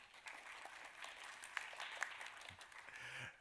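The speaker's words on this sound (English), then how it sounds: "So a big round of applause for Bridget." Faint, thin applause from a small audience at a university 3-Minute Thesis event, a scattered patter of claps lasting a few seconds with a couple of sharper claps standing out.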